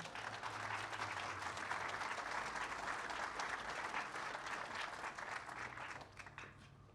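Steady applause from an audience at a Ferris State University ribbon-cutting for the Center for Virtual Learning, sustained and even for most of the stretch before thinning out near the end.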